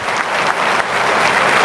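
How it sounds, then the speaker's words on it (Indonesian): Studio audience applause on a talk show stage, a steady dense wash of many hands clapping, loud and close, filling the whole moment without pause. "kita kasih tepuk tangan"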